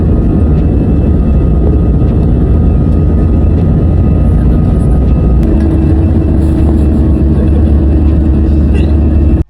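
Passenger airplane in flight to Boracay, its engines giving a loud, steady, broadband roar heard from inside the cabin throughout, ending abruptly.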